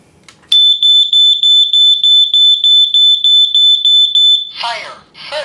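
A ceiling smoke alarm under test gives a loud, shrill, rapid run of about a dozen beeps. It stops abruptly, and a person then starts talking nearby.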